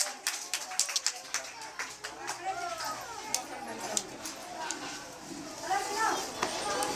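A classroom of children clapping at a fruits day celebration, quick scattered claps under loud kids' chatter and shouting, with a lively, crowded feel throughout.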